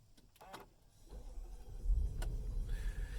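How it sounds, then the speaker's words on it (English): A starter whirs briefly, then a Range Rover Sport SVR's V8 catches and settles into a low, rumbling idle; fairly quiet and close. "Just hear that V8 burble into life straight away."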